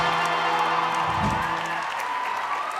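A studio audience applauds and cheers for the house band, a dense, steady wash of clapping with a few whoops, continuous and loud throughout with no talking.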